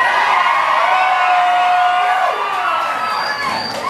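Concert crowd at a live show cheering and whooping loudly, a dense sustained roar of voices that fades slightly toward the end.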